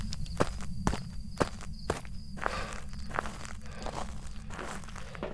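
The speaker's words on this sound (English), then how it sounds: "That does kind of sound like Myling footsteps." Footsteps of a Myling ghost in the Phasmophobia video game, a run of sharp, evenly spaced steps that land close and clear, then soften into quicker, muffled shuffles.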